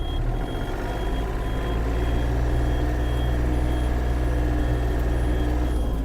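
A Yanmar AF-330 mini tractor maneuvers back and forth, its engine droning steadily and close while a high, evenly spaced reversing beep repeats throughout, with no voices.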